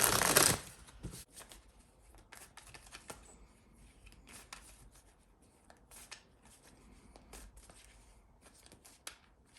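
Light Seer Minis tarot cards are shuffled and handled, opening with a loud burst of riffling and then continuing as quiet, close, intermittent rustles and soft card slaps.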